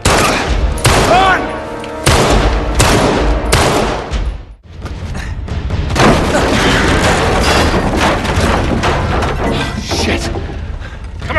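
Heavy gunfire in Uncharted: Drake's Deception, with sustained bursts of loud automatic shots, booms and crashes alternating with brief pauses, and a voice shouting once amid the shooting.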